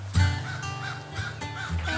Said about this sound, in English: The crows don't sound too happy